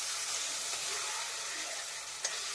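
Butter goes into melted sugar for caramel and is stirred, giving a steady bright sizzle and hiss with a faint scrape of the spoon near the end. No one talks.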